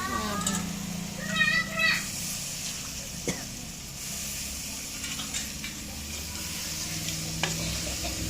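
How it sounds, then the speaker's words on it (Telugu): Masala fries in oil for a mutton curry, a steady close sizzle with scraping stirs, while a voice briefly sounds over it. "మసాలాని నూనె గోలాలండి"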